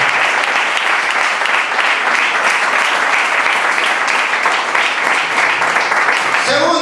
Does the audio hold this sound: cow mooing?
no